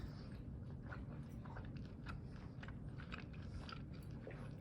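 Close, steady chewing of food while tasting compound butter, with soft wet crunching and mouth sounds continuing throughout at low volume.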